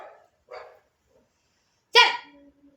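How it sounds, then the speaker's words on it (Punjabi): A female dog barks near the microphone, a few separate yelps early on followed by one louder, sharper bark near the end that trails into a short whine, with quiet gaps in between. "ਪਤਾ ਨਹੀਂ ਕੁੱਤੀ ਕਾਹਤੋਂ ਭੌਂਕੀ ਜਾਂਦੀ ਹੈ"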